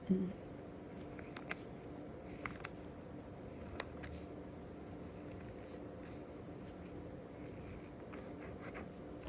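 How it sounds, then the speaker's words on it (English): A pencil scratches and taps on paper while drawing a lattice multiplication box, quiet close-up strokes with a few sharper marks over a faint room hum. "I'll do this in pencil."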